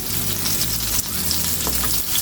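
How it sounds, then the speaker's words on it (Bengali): A short stretch of rui fish frying in oil, with a constant close hiss and fine crackling and one brief sharper pop. "আমি বেশি ভাজবো না, বেশি ভাজলে ভালো লাগবে না খেতে।"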